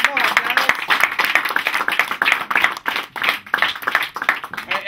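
A small comedy-improv audience in a bookstore café applauds a volunteer, with dense, steady clapping throughout, close and fairly loud, and voices mixed in underneath.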